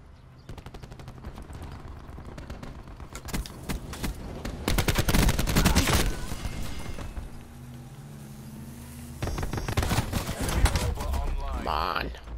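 Call of Duty Black Ops 4 gunfire in Safeguard mode, rapid bursts of automatic fire that come and go, loudest in the middle and again near the end, with a player talking over them.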